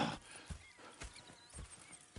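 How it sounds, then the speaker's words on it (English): A horse in a video game clip-clops with soft, evenly spaced hoof thuds, faint and distant, with a brief whinny at the start and no speech. "Go check the horses are ready."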